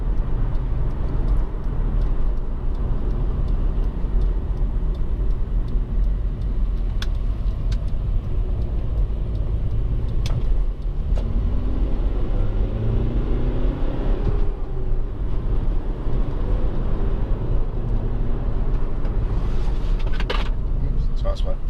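A Honda Accord 2.2 i-CTDi diesel saloon drives along a notoriously bumpy road and brakes, with a constant close road and engine rumble, occasional knocks and rattles, and a voice speaking over it.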